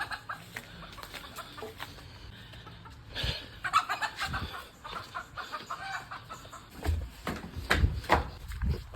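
Chickens and a rooster clucking in a busy, uneven series of calls, some close and loud, others fainter, with scattered sharp squawks and no talking.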